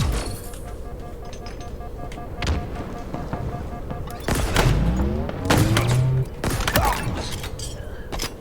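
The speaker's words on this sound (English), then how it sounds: "How did you shoot me? Good shot, whatever the hell it was." Gunfire in a video game cracks out in scattered sharp bursts, a few close loud shots and thuds rising toward the end over a constant game background hum.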